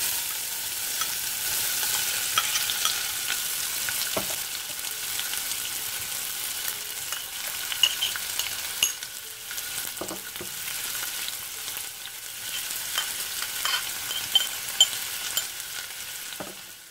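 Bay leaf, cinnamon and cloves temper in hot coconut oil, giving a continuous close sizzle with occasional stirring scrapes and small pops, no voices.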